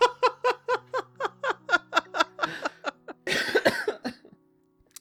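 A run of roughly a dozen sharp coughs in quick rhythmic succession, close and fairly loud, then a dense noisy burst of coughing and throat clearing near the end before it trails off, on a podcast recording.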